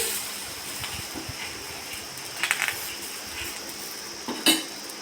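A wok on a gas stove outdoors, covered while cooking jaggery rice-flour pitha, rattles and clinks in a few sharp metallic taps over a low windy hiss, fairly faint, with no talking.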